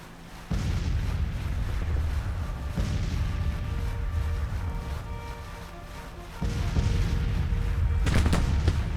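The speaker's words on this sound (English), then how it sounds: "I'm taking counter battery fire." Counter-battery artillery fire in Grand Tactician: The Civil War, a continuous rumbling barrage of distant cannon booms that swells sharply twice, with sharper reports near the end.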